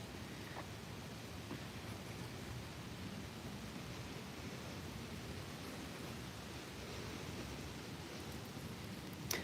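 Steady broadband rumble of rain at a cemetery in Texas, with a distant, low thunder roll beneath it, continuous and fairly faint throughout.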